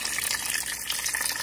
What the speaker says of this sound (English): I'm just gonna add a little water into this.